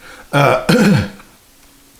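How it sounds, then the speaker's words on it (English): A single loud, close burp from a man, two guttural bursts followed by a short trailing sound, with no other noise around it. "I'm going to edit that because I just burped."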